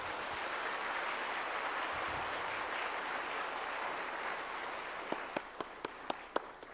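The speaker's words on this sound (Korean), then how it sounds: "뜨거운 박수로 축하해 주시기 바랍니다." A church congregation applauds during a Sunday service, a dense, steady wash of clapping filling the room for several seconds before dying down into a few scattered, sharp claps near the end.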